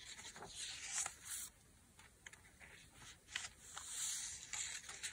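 Paper pages of a handmade junk journal, including dictionary and music paper, rustle and crinkle softly as they are turned and rubbed, in quiet, intermittent bursts close by.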